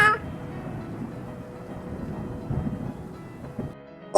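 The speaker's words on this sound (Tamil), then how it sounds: "மழை வர போகுது" Rain patters softly through a scene of an animated Tamil moral story, with a low rumble of thunder rolling beneath it, then breaking off abruptly near the end.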